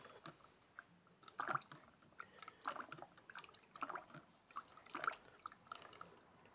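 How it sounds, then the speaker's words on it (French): Soft drips, splashes and squishy water sounds as an air cooler pump is rinsed by hand with lukewarm water in a workshop, faint and irregular with small bursts of liquid. "je rince ma pompe"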